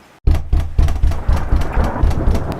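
Thunder and rain in a cartoon story: a sharp crack of thunder followed by rolling rumbles in repeated bursts under steady rain, loud and close.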